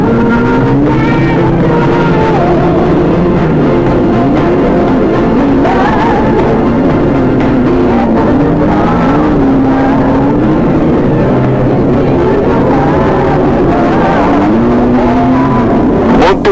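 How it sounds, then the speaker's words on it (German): An Audi 80 rally car in the up-to-1300 cc class drives at a 1980 rally. Its loud engine drones continuously with rising and falling pitch as it revs and shifts, with no talking. "Bis 1300 Kubik am Start Nummer 80 Herwig Haller auf Audi 80."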